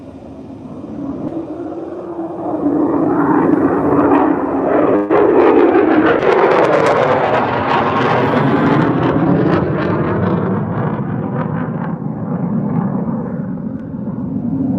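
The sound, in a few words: F-35 fighter jet flying overhead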